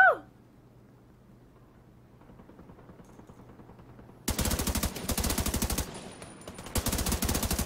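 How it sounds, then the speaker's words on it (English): Gunfire from the video game The Division 2 comes in after a quiet start, with loud rapid automatic bursts in several rattling volleys that are separated by short gaps. "Why is he shooting like that?"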